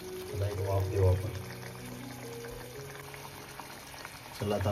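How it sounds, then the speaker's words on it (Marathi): Cashew paneer curry bubbles and steams in a pan on the stove, a soft continuous simmering hiss with gentle bubbling, partly under a voice at the start and end. "इकडे मस्त उकळी आले इकडे भाजीला."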